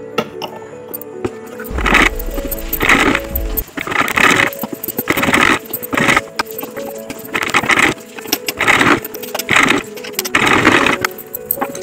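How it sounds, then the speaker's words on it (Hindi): A V-neck kurti neckline stitched on a sewing machine, heard as loud, close bursts of mechanical whirring repeating in a steady rhythm with short gaps between runs. "अब मैं इसमें स्टिच करूँगी और ये वी शेप का मैंने नेक बनाया है"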